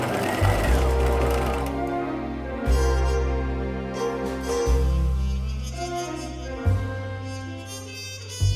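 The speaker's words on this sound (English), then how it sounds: "And then I'm going to continue stitching all the way around." A sewing machine stitches a foundation slip all the way around in steady runs, its motor whirring in a loud, continuous drone broken by short pauses roughly every two seconds.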